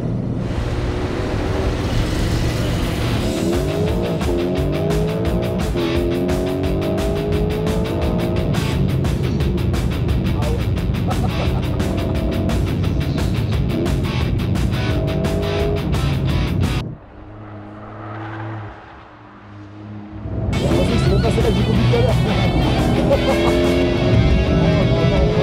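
Car pushed to its limits on track during a GP Explorer race, the engine roaring loud and close with shifting pitch, briefly dropping away before surging back at full volume.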